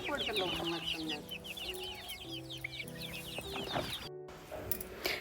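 Chickens and chicks on a farm cluck and peep in a busy, overlapping chorus at moderate distance, with faint background hum and a brief break near the end.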